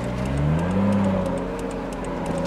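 A Toyota JZX100 Mark II Tourer V rear-wheel-drive sedan drives steadily past on a farm road, its mid-pitched engine note holding a continuous drone with a slight rise in revs, close and loud throughout.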